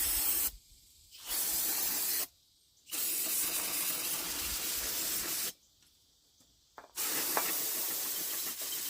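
Brake cleaner sprayed from an aerosol can onto tractor parts, three loud sustained hissing bursts of a second or more each, separated by short pauses and close to the listener.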